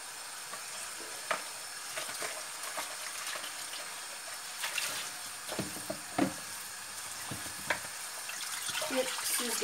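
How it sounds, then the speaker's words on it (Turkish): Water drains off cracked green olives into a strainer, a soft steady trickle and patter broken by scattered small splashes and clinks, with no voices. "boşaltıp bir güzel süzüyoruz."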